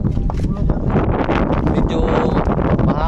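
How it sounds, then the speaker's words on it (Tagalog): Strong wind buffeting a small boat out at sea at night, a steady roaring rush with microphone gusts and faint water noise, loud and close throughout, with a voice speaking underneath. "Medyo mahangin."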